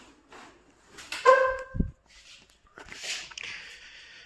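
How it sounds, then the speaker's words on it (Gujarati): Village dogs give a short, close whimpering yelp followed by a low bark-like burst, with faint rustling and background noise around them. "કૂતરાઓને બહાર જઈને અમારે તગડવા પડશે."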